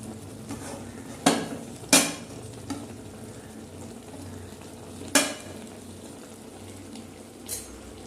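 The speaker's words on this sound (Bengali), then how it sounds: "ভালো করে নাড়তে চাড়তে থাকতে হবে।" Tomato chutney with dates and dried mango being stirred in a pan: several sharp clinks of a spoon against the pan over a low simmering hiss, no talking.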